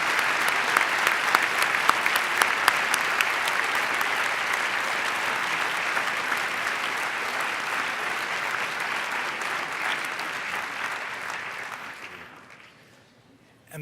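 Audience at a model UN closing ceremony applauding the outstanding delegations, a sustained dense round of clapping from a large hall that carries on evenly before dying away near the end.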